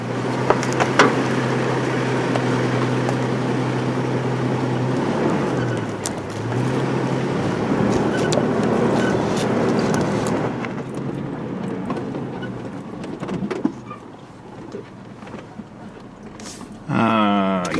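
A work truck without track chains climbs a rough dirt road in Montana, its engine droning steadily and close with low rumbling and bumps, easing off near the end before a brief revving surge.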